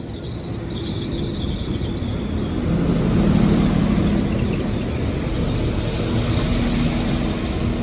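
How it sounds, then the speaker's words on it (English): A Transport for Wales class 197 train moves through Pencoed station with a steady rumble and hum that swells midway and holds, and a faint high whine sits above it. "Departing now is a 1244 Transport for Wales service from Maesteg to Gloucester."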